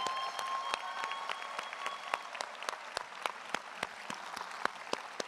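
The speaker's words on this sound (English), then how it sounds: "Graduates, let's give them a round of applause." Graduates clap for standing faculty at a spring graduation ceremony for business and education schools, a thin, scattered applause with distinct individual claps ringing out over a soft crowd background.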